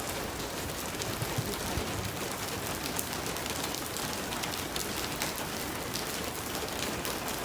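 Steady rain falls on surfaces outside a hotel in Leh, a dense, even hiss of drops with no pauses, moderately loud and with no voices.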